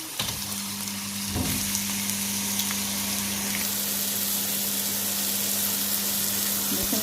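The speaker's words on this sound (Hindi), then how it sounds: "देखिए नाज़रीन, हमारे बहुत अच्छे से हमारे कबाब इसमें ग्रिल हो रहे हैं।" Chapli kebabs grill on a grill pan with a continuous, loud, even sizzle and a steady low hum underneath, with a couple of brief knocks near the start.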